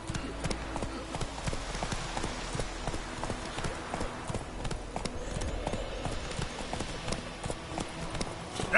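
Roach the horse's hooves clip-clop in The Witcher 3 video game, a steady, fairly close rhythm of hoofbeats continuing throughout over a low background hum.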